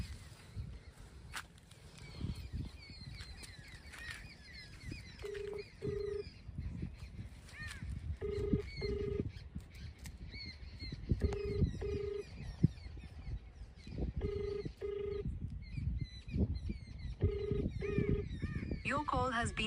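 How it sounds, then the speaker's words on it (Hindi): A mobile phone places a call, its ringing tone repeating in short paired beeps at a steady rhythm beneath talk and background noise. "अब मेरे मोबाइल से कॉल लगाते हैं"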